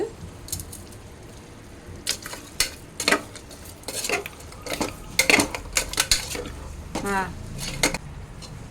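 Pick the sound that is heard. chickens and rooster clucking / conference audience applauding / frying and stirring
frying and stirring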